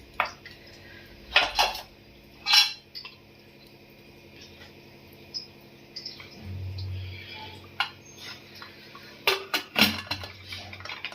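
A metal lid is set and closed on a pressure cooker pot of mint pulao, with several close clanks and clinks of metal scattered across a quiet kitchen background.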